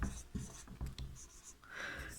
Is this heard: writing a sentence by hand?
yes